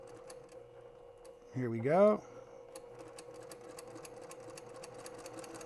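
A sewing machine stitches quilt pieces for an optical illusion checkerboard quilt, giving one short rising motor whir over a steady background hum, with a brief spoken remark just before it.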